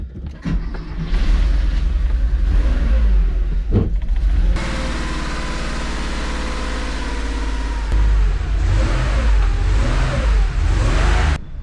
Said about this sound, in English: let's give this a little gentle drive